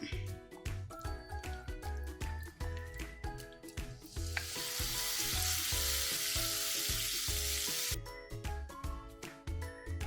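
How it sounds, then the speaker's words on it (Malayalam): Prawns sautéing in hot sunflower oil, a steady close sizzle and spatter that swells louder midway, with rhythmic thuds of stirring running underneath throughout. "ചെമ്മീനിട്ട് വഴറ്റിയെടുക്കാം."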